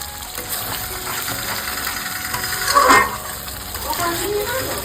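Soft sizzling of spice paste frying in a pan for a chicken curry, with a brief scraping stir near the middle; fairly steady and moderately loud, no voices.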